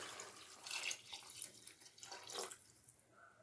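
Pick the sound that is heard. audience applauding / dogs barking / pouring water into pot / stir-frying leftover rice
pouring water into pot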